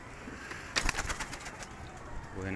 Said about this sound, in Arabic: وهنا في حمام